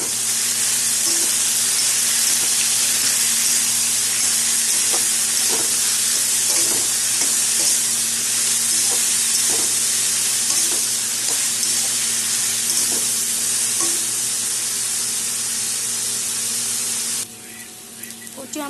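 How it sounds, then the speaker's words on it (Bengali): Taro and potato with salt and turmeric fry in a pan for a vegetarian curry, a loud continuous sizzle close by, broken by scattered pops and light stirring. "এখন এটা ভাজা করে নেব।"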